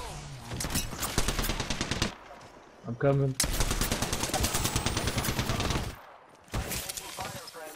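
Automatic and rapid gunfire bursts from an Apex Legends-style shooter game, loud and dense with brief pauses, while players talk over the shooting.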